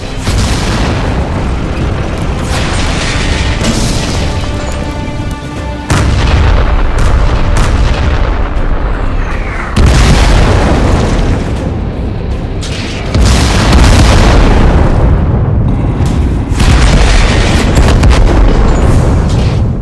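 Cartoon tank-battle artillery from cruisers: a loud, continuous barrage of heavy booms and explosions rolling on with repeated bursts and rumbling blasts, no voices.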